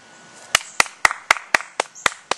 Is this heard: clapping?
yes